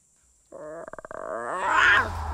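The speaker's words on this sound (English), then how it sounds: "She-Hulk looks like a poor imitation of an oversized Fiona from Shrek, with a roar to match" A single loud She-Hulk roar from a Marvel trailer, heard alone, starting as a stuttering, pulsing growl and swelling into a full, rising roar that holds to the end.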